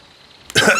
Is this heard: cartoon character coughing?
yes